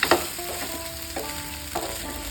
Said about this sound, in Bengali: প্রথমে দিচ্ছি পাস্তা সসটা, মিশিয়ে নিচ্ছি